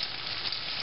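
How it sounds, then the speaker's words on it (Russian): Breaded pollock fillets dredged in flour frying in hot vegetable oil in a pan, giving a steady, even sizzle throughout with no talking. "укладываем обжаривать нашу рыбку минтай, панированную в муке"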